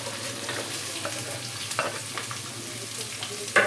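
Onion sizzling in oil in a pan for a palak and yellow pumpkin masala, a steady crackling fry broken by scraping stirs of a spoon, close up and uninterrupted by talk.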